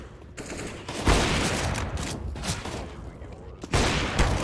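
Gunfire in the video game CS:GO, with dense bursts of automatic shots that sound loud and close, strongest near the start and again at the end, with a voice briefly audible among the shots.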